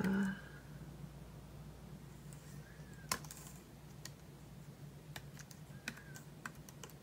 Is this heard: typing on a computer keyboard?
yes